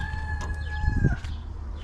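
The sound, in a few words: rooster crowing at a campground barnyard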